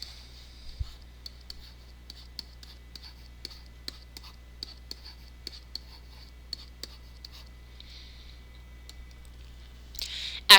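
A pen scratches and taps across paper while a number line is drawn, giving soft scattered ticks and short strokes at an even pace, quiet and close, with a faint hum behind and a brief louder rustle at the end.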